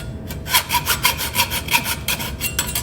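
A blade fitted in a saw frame cuts metal in quick, even back-and-forth strokes of rasping scrapes, close and loud, with no talking.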